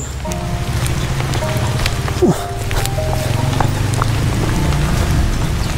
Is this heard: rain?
yes